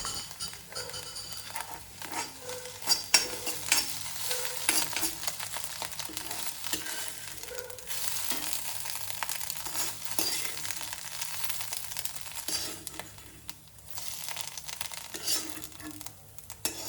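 Broken poha pieces frying with a little salt in a pan, giving a steady soft sizzle with stirring scrapes and light clinks throughout, close and moderately loud.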